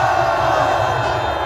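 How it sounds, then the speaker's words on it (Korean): A large outdoor political rally crowd roars with cheers and shouts in a loud, continuous wash of voices, close and sustained throughout. "우리 김용현 장관에게 격려의 박수, 큰 함성음 시작!"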